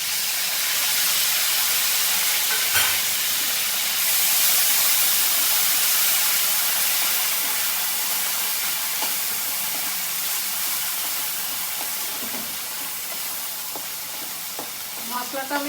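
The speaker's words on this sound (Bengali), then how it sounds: "এবার আমি জিরে, টমেটো, কাঁচা লঙ্কা আর আদা বাটা দিয়ে দিলাম।" Cumin, tomato, green chilli and ginger paste hit hot oil for a prawn malai curry, giving a loud, steady sizzle with an occasional scrape of stirring, continuous throughout.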